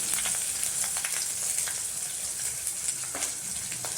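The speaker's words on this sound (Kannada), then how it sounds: "ಇವಾಗ ಒಂದು ಈರುಳ್ಳಿ, ಒಣಮೆಣಸಿನಕಾಯಿ, ಬೆಳ್ಳುಳ್ಳಿ ಹಾಕ್ತಾಯಿದ್ದೀನಿ." Sliced onion, dried red chilies and garlic fry in an oil tempering of seeds in a pan, producing a continuous soft hiss with scattered crackles and occasional stirring taps.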